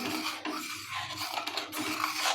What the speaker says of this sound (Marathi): साखर टाकल्यानंतर असं हलवून घ्यायचं